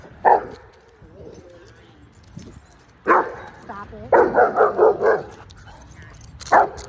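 Several puppies and dogs bark close by in sharp bursts, including a quick run of yips, with a person speaking briefly between barks.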